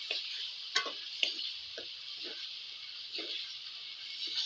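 Liver stirred into masala in a hot pan, a steady sizzle broken by a series of spoon scrapes and taps against the pan, close and fairly quiet.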